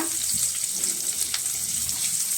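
Chopped onions fry in hot oil in a pan for paneer gravy, giving a steady, close, hissing sizzle throughout with faint stirring.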